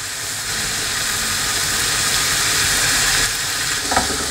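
Food frying in a pan on gentle heat, seasoned with salt and pepper, giving a steady close broadband sizzle and hiss with no break and a few faint clicks near the end.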